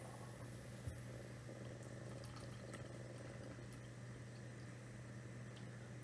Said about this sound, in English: Let's see what volume of red potion she made. So we'll pour it in.